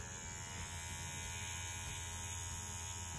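A Bronc Hummingbird V10 rotary tattoo machine runs with a faint, steady electric hum and high whine, unchanging throughout and heard alone without speech.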